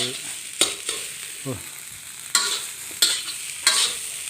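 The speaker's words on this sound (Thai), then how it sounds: "ผัดข้าวครับทุกคนผัดข้าวให้เจ้านาย" Rice is stir-fried in a pan with a steady crackling sizzle. Several sharp spatula strikes and scrapes against the metal recur every second or so.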